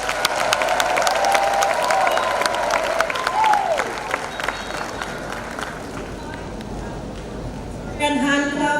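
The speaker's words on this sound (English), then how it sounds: "And hand clap to our chief guest." Applause at a university graduation ceremony, with crisp claps fairly loud at first and thinning out over several seconds beneath a voice speaking over a PA, before a brief swell near the end.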